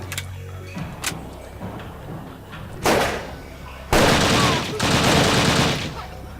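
Gunfire from shooting practice in the video game Übersoldier: scattered shots, then two loud sustained bursts of automatic fire, close and harsh, with faint game sounds between.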